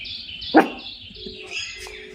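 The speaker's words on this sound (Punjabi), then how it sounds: "ਪਿਆ ਪਿਆ ਹੀ ਭੌਂਕਦਾ" One sharp, loud dog bark rings out close by, while birds chirp and tweet softly in the background.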